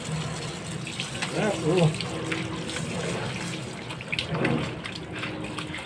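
Water runs from a tap while a pet dog is bathed, a steady wash of flow with splashes, and people speak briefly over it.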